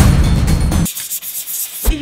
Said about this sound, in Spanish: Ahora sí, estamos listos para dar lija.